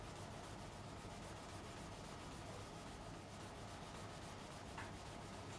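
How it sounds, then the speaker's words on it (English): Steady, quiet rubbing and polishing on the frets and fingerboard of a 1960s-style Fender Vintage Hot Rod Stratocaster guitar, an even, continuous scrubbing texture close by with no talking. "Polishing the frets and the fingerboard at the same time here."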